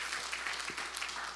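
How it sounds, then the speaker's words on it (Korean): A church congregation at a New Year revival service applauds the young adults' worship team, producing a faint, distant patter of clapping over room noise. "우리 인앤 워십팀, 청년 워십팀 박수 한번 부탁합니다"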